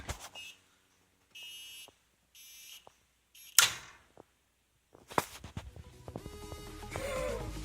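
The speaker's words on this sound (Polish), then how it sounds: "taki specjalny tam jakiś timer z alarmem, tak jak słychać" An old stove timer alarm gives several short electronic buzzing bursts with brief gaps, followed by clicks, a sharp clatter and rising rustling noise.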